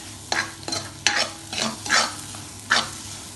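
Spice powders roast in a pan for Arabic beef stew. About six distinct scraping stir strokes land in an uneven rhythm over a low background sizzle.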